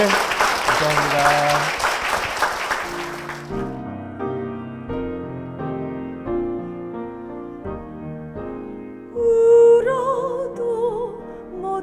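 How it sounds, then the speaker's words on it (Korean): A church congregation bursts into loud applause for a few seconds, then it stops and gentle piano music begins, with a brief spoken thanks. "다시 한번 큰 박수 부탁드리겠습니다"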